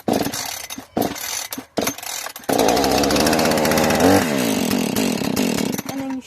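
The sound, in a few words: Husqvarna chainsaw starting and running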